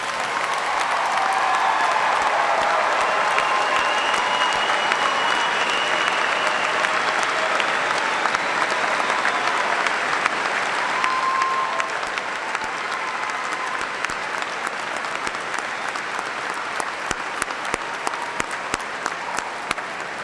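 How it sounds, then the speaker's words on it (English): A large crowd at a spring university commencement ceremony claps for the newest Eastern Kentucky University graduates. The applause is loud, dense and sustained for about twenty seconds, with no voices above it. "let us recognize with a hearty round of applause Eastern Kentucky University's newest graduates"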